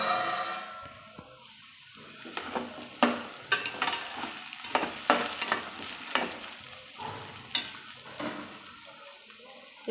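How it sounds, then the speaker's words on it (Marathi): Potatoes frying in a pan, a quiet background sizzle broken by a cluster of sharp spatula scrapes and stirring strokes in the middle, then fading back to soft frying. "हे पाहू शकता बटाटा छान फ्राय झालेला आहे."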